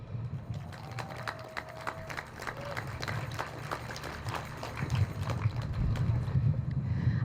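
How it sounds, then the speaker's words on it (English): Scattered hand claps ring out from a small outdoor crowd at a peaceful protest in Farmville, thin and uneven over a low rumbling background of wind and hum. "So please just take a second and give yourself a round of applause."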